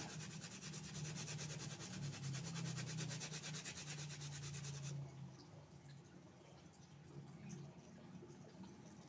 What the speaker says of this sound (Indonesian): Prinsipnya gunakan yang hard brush yang bulunya